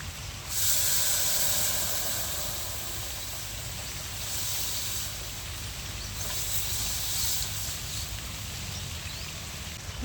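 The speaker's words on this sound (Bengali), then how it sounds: "এবার ডালটা ঢেলে দেবো" Lentils go into a hot pan of fried onions and spiced oil, setting off a loud rush of hissing sizzle that settles into a steady, close steam hiss with slight surges for the rest of the stretch.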